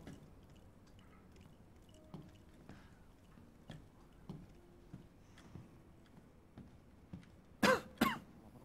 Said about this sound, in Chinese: 吓我一跳，我还以为谁咳嗽